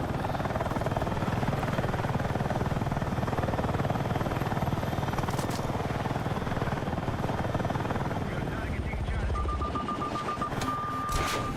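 A helicopter in the video game Battlefield 6 gives a continuous rotor drone that throbs steadily throughout, along with game effects, a few sharp bursts and a rising tone near the end.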